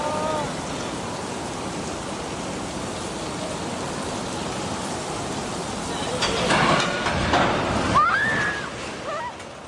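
Heavy rain pours down in Aceh as water gushes from a collapsed gutter at a shooting venue, a steady loud roar of falling water that swells and splashes harder toward the end, with a voice briefly audible.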